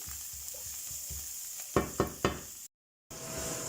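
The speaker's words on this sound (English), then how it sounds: "and we'll add the garlic and onion and let it brown up there in the same oil." Soft sizzling of garlic and onion frying in oil in a pan, with a few clanks of stirring, a brief dropout of silence, and a steady extractor fan hum behind.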